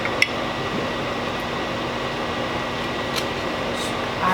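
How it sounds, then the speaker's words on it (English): An electric fan runs steadily in a home kitchen while the oven is on, giving a constant broadband whoosh with a faint hum, alone apart from a couple of small clicks. "excuse my fan. I have to have it on when the oven is on"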